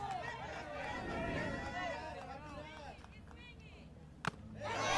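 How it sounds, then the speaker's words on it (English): Texas fans in the stands at a Senior League Baseball World Series game against Hawaii, producing a steady, mid-distance crowd hubbub of cheering and chatter that stays fairly even throughout, with one sharp knock near the end. "Texas fans, you can hear them. They have come to cheer."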